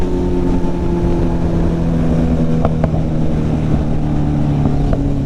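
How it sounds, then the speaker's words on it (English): A loud, steady BMW S1000RR motorcycle exhaust drones continuously with a deep low rumble and a few sharper pops, no voices. "this exhaust is loud."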